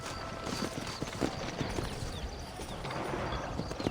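Horse hooves clip-clop in the Western video game Red Dead Redemption, a steady run of hoofbeats under a busy, continuous background of game ambience and music.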